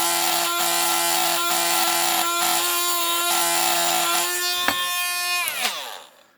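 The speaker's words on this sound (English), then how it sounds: "This is quite noisy. Just bit of polishing." Steady high-pitched grinding whine of a disintegrating polishing wheel against a metal die-cast toy army truck part, loud and continuous with slight pulsing, then winding down at the end.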